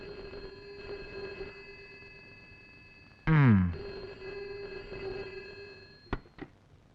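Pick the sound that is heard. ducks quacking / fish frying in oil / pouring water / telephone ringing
telephone ringing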